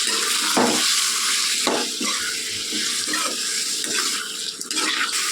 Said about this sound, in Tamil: இப்போ வந்து இது நல்லா கிளறி விட்டுலாம்